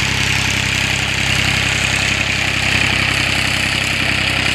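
A 2018 Farmtrac 60 T20 tractor with an engine fault idles close by, a steady, loud, low diesel rumble with faint knocking that holds without a break.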